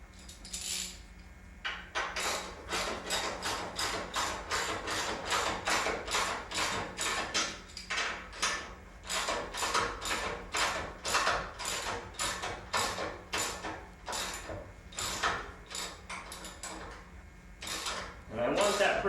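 A bolt being threaded back in and snugged down during a belt replacement: a long run of quick, evenly spaced metallic ratchet-like clicks, close and crisp, with a short pause near the end before a few more.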